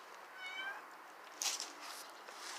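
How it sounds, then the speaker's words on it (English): A pet cat meows in a quiet indoor setting, a few high, drawn-out cries followed by a brief sharper sound, with soft background noise. "He likes to meow."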